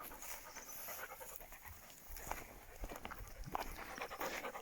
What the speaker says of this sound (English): The problem with Fred is being a dog.